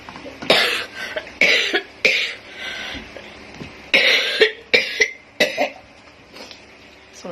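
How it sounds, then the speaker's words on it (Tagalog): A series of harsh, hacking coughs from a sore throat in uneven bursts, some close together, with brief pauses between; one person coughing nearby, fairly loud. "Ganyan yung ubo ko."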